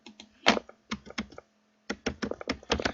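Quick clicking keystrokes on a computer keyboard come in short irregular bursts with a brief pause midway, close and fairly clear.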